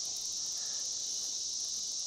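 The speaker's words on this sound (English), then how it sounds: "there were hundreds of cicadas on the surface" Continuous high-pitched buzzing of cicadas at a lake, steady and uniform, with no other sounds.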